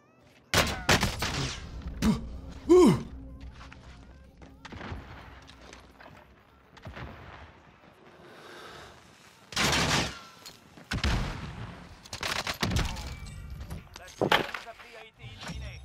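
Bursts of gunfire from a Hog and a MAC-10 in Warzone, sharp clustered shots and rapid volleys spread across the stretch with quieter gaps between them, and faint talk in the background.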